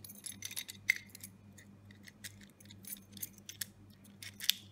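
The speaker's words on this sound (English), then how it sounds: "Looks like it locks and unlocks okay." An Iknoic entrance knob lock from Bunnings is locked and unlocked with a key, giving faint, scattered metallic clicks and a couple of sharper snaps in a quiet room.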